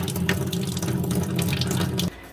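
Water runs loudly and steadily through the line of a tankless water heater set to bypass, flushing air out, a strong continuous faucet-like rush that cuts off abruptly near the end.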